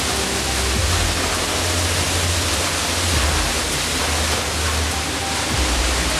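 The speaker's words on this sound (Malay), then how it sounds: "Sekarang kita lagi berada di air terjun. Di belakang air terjun." The Lubuk Bulan waterfall in West Sumatra is heard from behind the falling water, inside the cave. It makes a loud, steady, dense roar of rushing water that continues without a break and with no voices.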